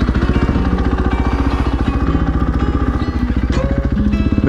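A supermoto motorcycle engine warms up steadily up close, a loud throbbing rumble with a slight rise in revs near the end.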